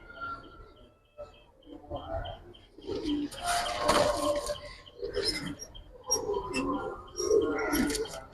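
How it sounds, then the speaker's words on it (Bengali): Young Giribaz pigeons coo softly and repeatedly nearby, low throaty calls mixed with some rustling and faint voices in the background. "কবুতর একদম বাচ্চা"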